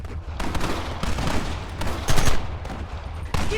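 Sustained gunfire in the Red Dead Redemption video game: dense, continuous volleys of rifle and pistol shots with sharp repeated cracks over a constant loud battle wash.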